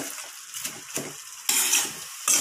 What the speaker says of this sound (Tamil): பாவக்காய் நல்லா தக்காளி கூட வதக்கி விட்டுடலாம் இப்போ இதை நல்லா கிண்டி விட்டுடலாம்